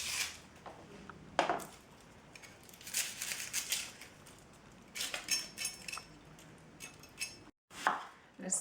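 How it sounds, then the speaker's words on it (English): Onion being peeled by hand in a home kitchen while making Kerala chicken curry: faint crackling papery tears and scrapes, with a few sharper taps and clinks from a knife or board, quiet and sporadic. "Now let's peel the onion."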